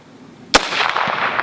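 A single sharp rifle shot from a Winchester in .218 Bee, loud and close, cracking suddenly out of quiet and trailing into a long rolling echo outdoors.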